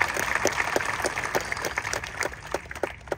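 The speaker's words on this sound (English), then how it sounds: "I'd like to begin my speech with a round of applause for all the teachers out there" Graduation ceremony crowd at a high school applauds for teachers: scattered, uneven hand claps with distinct individual slaps standing out over a softer wash of clapping, moderately quiet in a large space.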